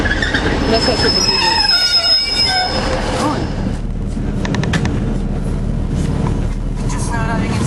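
A Class 156 diesel train rumbles into Garelochhead station close by, wheels squealing and screeching along the rails as it slows, with a voice talking over the noise.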